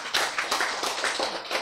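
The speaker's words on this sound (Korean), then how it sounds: "네, 박수" A live lecture audience claps after being invited to, with dense overlapping hand claps in uneven bursts, moderately loud and close, with no voice over it.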